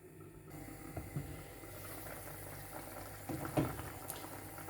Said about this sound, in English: Looks so busy in that pan, bubbling away.